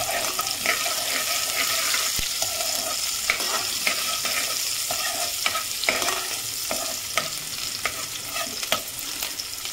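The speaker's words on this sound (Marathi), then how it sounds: "कांदा परतून घ्यायचा आहे." Onion sautéing in an Indian kitchen pan for a gavran chana usal, a steady close sizzle broken by frequent scraping stirs and utensil clinks, no voices.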